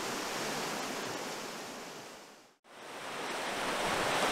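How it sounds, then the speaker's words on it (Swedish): Rushing water at a mill's water wheel, a steady broadband roar close by that briefly dips to near silence midway before swelling back, with no talk. "Här är vattenhjulet i kvarnen som försörjde kvarnen med vatten."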